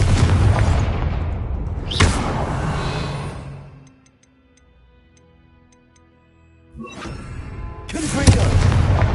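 Confringo fire spells blasting in Hogwarts Legacy: a loud burst that rumbles and decays, a near-silent gap, then two more heavy blasts close together, each with a sharp crackling onset and booming low tail.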